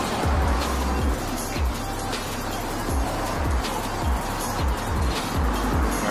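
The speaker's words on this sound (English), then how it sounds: "Sorry about all the road noise for the traffic going down the creek." Road traffic on a street running down a creek, cars passing in a steady rumbling stream with repeated low swooshes as each vehicle goes by, moderately loud and continuous, no talking.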